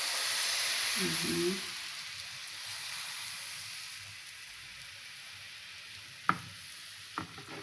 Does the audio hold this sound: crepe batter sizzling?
yes